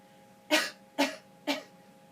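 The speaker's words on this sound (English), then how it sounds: "you cough" A person gives three short, sharp coughs at an even half-second rhythm, close and fairly quiet, with near silence between them.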